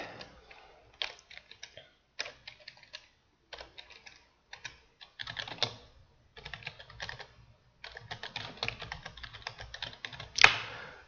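Keys clatter on a computer keyboard while someone types a short word into a spreadsheet cell, coming in quick bursts of close, crisp clicks split by short pauses, with a sharper tap near the end.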